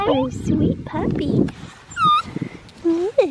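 A young red tri male puppy gives high, rising whimpers and yips in short bursts. Close, affectionate talk from people fills much of the clip around them.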